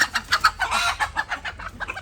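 A native hen clucks repeatedly in short, close, rhythmic bursts, a steady run of nervous clucking with no talking.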